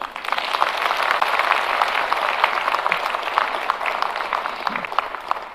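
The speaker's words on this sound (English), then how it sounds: "just so that maybe you can clap for them" Sustained applause from an audience at a National Housing program event at Bomas, clapping for the board members present, dense and steady for several seconds with no talk over it.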